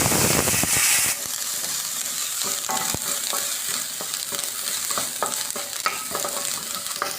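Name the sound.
turkey berries frying and being stirred in oil in a kadai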